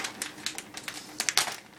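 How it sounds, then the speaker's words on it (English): Kitchen scissors snip open a frozen cheese package in a home kitchen, giving a quick series of light, crisp cuts and crinkly plastic rustles close up, with no talking. "So now we're going to open the cheese, and I use a pair of scissors."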